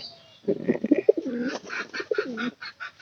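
Pigeons coo softly nearby in low, throaty bursts, several overlapping calls with a few brief chirps.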